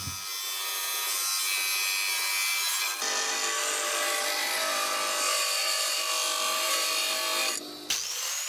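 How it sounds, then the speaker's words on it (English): A bench grinder with a thick wheel grinds sawblade steel while a parang blade is being shaped, giving a steady, loud, continuous grinding whine with a brief dip near the end. "Most of the shaping is done with my bench grinder with a thick wheel, and I just grind away until I get the lines of the design."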